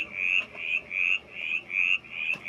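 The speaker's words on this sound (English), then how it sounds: "these are the frogs, with the mountain chorus frog calling" A mountain chorus frog calls in a rapid, regular series of six rising creaky trills, close and clear over a faint background.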